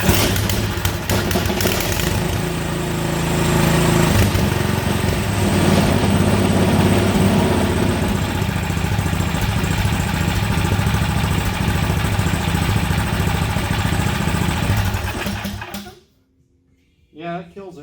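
A small engine runs steadily and loud after its carburetor has been cleaned, holding an even drone for about sixteen seconds before being cut off suddenly, then a brief quiet rattle follows.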